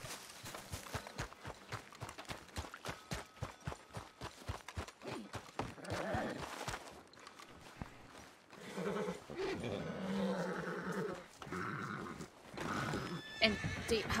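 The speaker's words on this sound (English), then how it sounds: "Sorry, I don't know whose horse this is" A horse in the western video game Red Dead Redemption 2 whinnies and snorts after a run of rhythmic hoof clops, the neighs loud and near, with people talking in the background.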